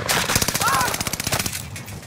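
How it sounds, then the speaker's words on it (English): Automatic gunfire in Call of Duty: Modern Warfare, a rapid steady stream of shots close up and loud, with a voice talking over it. "Remember, they're being shot at by people."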